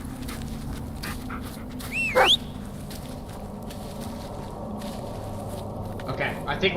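Bullet the dog pants softly in the Blair Witch video game, quick breathy pants and a brief whimper over faint footsteps and ambient forest sound, with a voice talking at moments.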